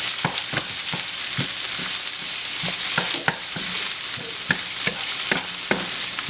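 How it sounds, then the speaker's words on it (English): Onions for homemade tacos frying in a pan while being stirred: a loud, steady sizzle with a regular series of utensil scrapes and taps against the pan, close up, with no talking. "That's a little stir right there."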